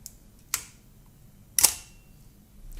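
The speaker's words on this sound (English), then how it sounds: "this is exactly how the shutter works in a camera" A camera shutter fires twice, each a crisp, loud mechanical snap about a second apart against near silence.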